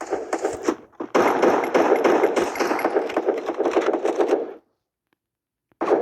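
A small pistol fires in a video game: a dense, loud volley of rapid shots runs for several seconds, then cuts to silence before one more burst at the very end.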